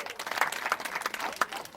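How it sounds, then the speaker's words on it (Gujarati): Women in the audience at a Shreemad Bhagvat Saptah religious discourse clap together in a brief, dense burst of scattered handclaps, fairly close and steady throughout. "જુઓ બહેનો તાળી પાડો"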